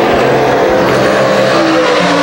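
Modified race cars roar around Can-Am Speedway in a close, loud, continuous engine drone, with a hint of tire scrub as the pack runs side by side.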